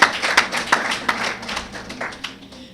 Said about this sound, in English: Wow, clap for yourselves.